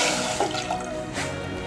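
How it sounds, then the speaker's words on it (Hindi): Water pours into a cooking pot on the stove for Pakistani-style chicken macaroni, a steady close splashing stream of liquid, heard alone. "अब इसमें पानी डाल रही हूँ,"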